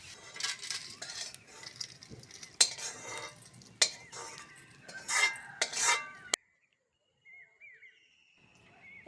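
A metal utensil clinks and scrapes in a pan as fried prawns are lifted out, several sharp close clatters over a few seconds before stopping abruptly into near silence.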